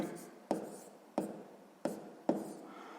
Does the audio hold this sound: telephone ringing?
no